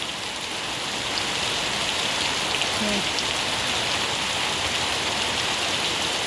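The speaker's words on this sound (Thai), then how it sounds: "ฝนตกแล้วพี่น้องเอ้ย" Rain pours onto a fruit orchard garden with durian and coconut trees, a loud, dense, steady hiss of drops striking leaves and ground, continuous from start to end.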